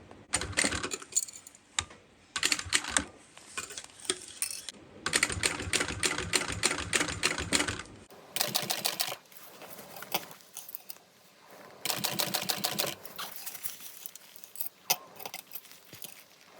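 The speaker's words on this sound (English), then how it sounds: "So I'm going to go ahead and start sewing this on" A sewing machine stitches a sling seam at a quarter-inch seam allowance, running in several close, clattery bursts of rapid needle chatter separated by short pauses.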